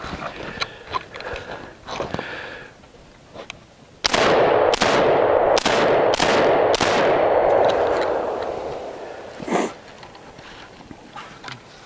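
Five loud, close shots from a Springfield Armory M1A rifle fire in quick succession, emptying the magazine, followed by an echoing tail; softer clicks and knocks come before and after.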